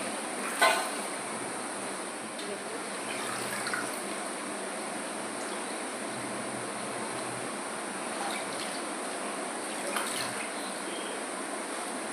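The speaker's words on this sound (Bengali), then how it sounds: "কচুর পাতাগুলো আমরা জল দিয়ে" Taro leaves are rinsed under running water, giving a steady, even gush of water that runs throughout, with a faint splash or two and no voices.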